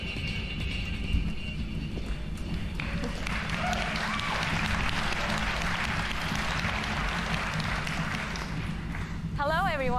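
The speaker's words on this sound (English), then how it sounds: "Thanks for the warm applause." Conference applause at the PC Gaming Show during E3 2019: a steady wash of clapping from the audience that lasts throughout, at moderate volume, with voices faintly mixed in.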